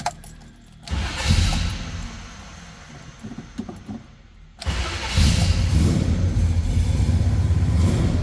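A 1969 Chevrolet Chevelle Malibu Sport Coupe engine cranks and catches, drops briefly, then fires again into a loud, steady rumbling idle up close, with no talking.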